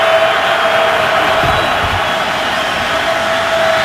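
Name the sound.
football stadium crowd cheering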